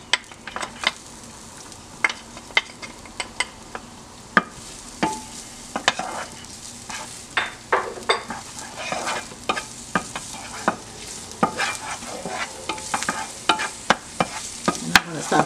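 Minced garlic and ginger frying in a pan for a pepper steak beef stir fry, a low sizzle under repeated sharp scrapes and clinks of a utensil stirring, close and busy with no talking.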